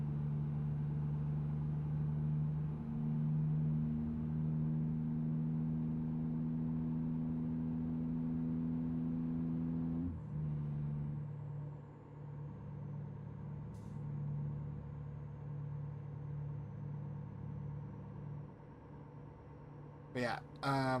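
Heavy truck engine in a trucking video game, a steady low drone that drops in pitch around midway as the truck downshifts, with a brief higher whine near the end.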